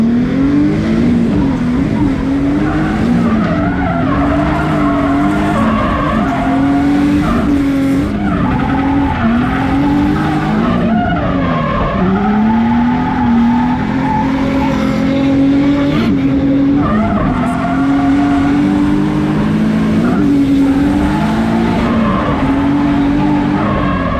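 Nissan 350Z driving with its engine revving hard and tires squealing, a continuous loud near engine drone with rising and falling pitch throughout, no talk.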